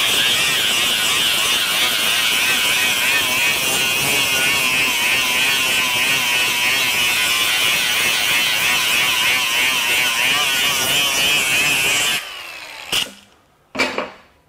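A FLEX 24V FX3171A brushless grinder with a 5-inch 40-grit flap disc works a metal surface, a loud steady whine with abrasive grinding for about twelve seconds, then it cuts off into a few short clunks.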